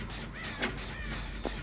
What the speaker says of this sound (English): because I heard crows